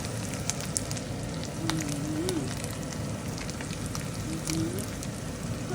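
Smoked fish (tinapa) frying in oil gives a steady, dense sizzle with scattered crackling pops, close and continuous the whole time, with a faint voice murmuring underneath.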